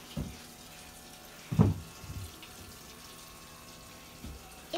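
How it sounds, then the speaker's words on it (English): Tap water at a kitchen sink while a child washes dishes, heard as faint, intermittent splashes and trickles in a quiet room, with a couple of slightly louder bursts. "Baby, you trying to learn how to wash dishes?"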